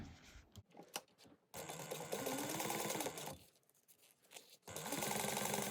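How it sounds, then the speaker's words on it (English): A sewing machine topstitching fabric 1/8 inch from the edge while making a small bag, running in two long steady bursts separated by a pause, close and fairly loud with no talking. "we're going to top stitch this at 1/8 of an inch"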